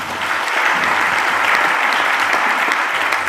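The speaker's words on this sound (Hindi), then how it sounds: "ताली बजा दो इसके लिए" Sustained audience applause at a live show, a dense steady wash of many hands clapping, loud and continuous throughout with no speech over it.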